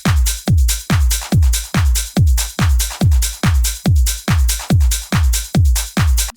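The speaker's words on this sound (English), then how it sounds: "So this is a loop from my Trance Volume 2 drums pack." A trance drum loop from a sample pack plays loud and alone, a steady four-on-the-floor kick pounding about twice a second, with bright hats and percussion washing over each beat.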